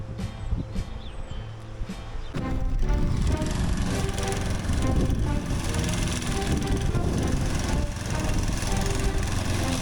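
A small 3.6 kW lawn mower engine runs loudly and continuously nearby on a riverbank, its rough drone steady throughout with wind noise mixed in.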